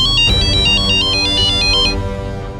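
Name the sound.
phone ringing during an outgoing call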